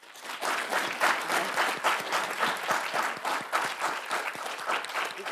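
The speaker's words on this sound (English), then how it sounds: "Okay, let's do one more round of applause." An audience claps warmly after a university lecture, a steady round of applause from a modest crowd in a hall, even and sustained for several seconds.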